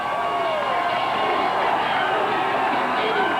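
Crowd at a 1997 Canadian junior football championship game cheering and roaring in a continuous wash of noise, with a commentator talking over it.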